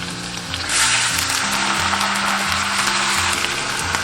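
Mushrooms hit hot pork fat from pork belly with sliced ginger and garlic in a wok, setting off a loud, steady sizzle that swells suddenly and keeps crackling close up.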